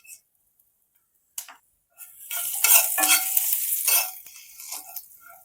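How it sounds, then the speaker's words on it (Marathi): Asafoetida and cumin sizzle in hot oil for Marathi-style matar kachori, a quiet tap at first, then a bright crackling hiss that swells and rolls on for a few seconds before easing back slightly, with no talk. "तेल बघा आपलं छान गरम झालेलं आहे, त्यामध्ये आपण पाव चमच हिंग टाकून घेऊया"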